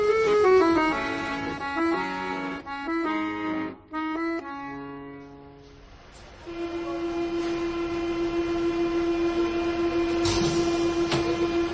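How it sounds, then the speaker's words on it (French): A metro train coming to a stop in a station, with descending tonal whines as it slows, then a steady hum and a sustained horn-like tone, with no voices. "Et la rame qui va s'arrêter"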